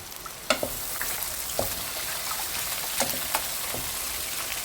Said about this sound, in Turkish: Soğanım kavrulduktan sonra şöyle iç baklamı ilave ediyorum.